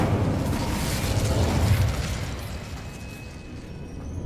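A rushing, explosive burst of the Incendio fire spell in Hogwarts Legacy, loud and sustained at first, then slowly fading with a faint high whine near the end.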